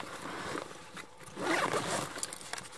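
A zipper closing on a backpack, with a couple of short zipping pulls, the longest and loudest near the middle, close and quiet with light rustling of fabric.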